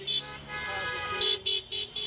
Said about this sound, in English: The cars are tooting.